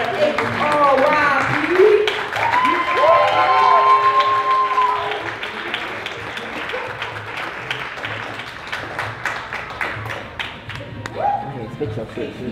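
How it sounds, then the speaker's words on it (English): A live poetry showcase audience claps and cheers as a young poet walks to the stage, loud at first with voices rising over the clapping, then settling into steadier, thinner applause. "So keep clapping all the way up to the stage for April."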